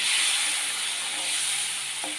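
A star gooseberry pickle with salt water and vinegar fries in a pan, giving a steady, even hiss of sizzling liquid that stays close and continuous throughout with no voices.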